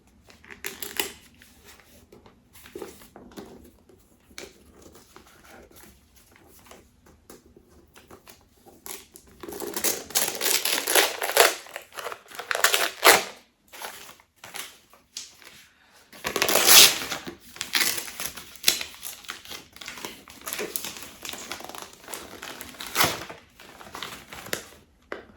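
A wrapped Advent gift holding a paperback book gets torn open, quiet rustling at first, then loud bursts of crinkling and ripping paper close by, with no speech.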